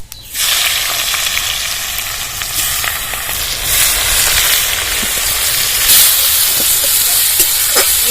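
Chopped onions frying in hot mustard oil with cumin, dried red chillies and bay leaf, a loud steady sizzle and hiss that starts abruptly and continues close up throughout, with faint scattered pops and clinks.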